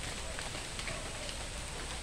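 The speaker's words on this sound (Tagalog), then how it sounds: "Umuulan." Steady rain pattering on a surface, a constant hiss of drops with no breaks, close and even in loudness.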